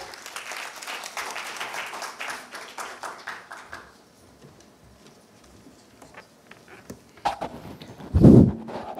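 A crowd at a CSR summit in Maharashtra claps steadily for several seconds, then the applause fades into scattered claps and a low thump near the end.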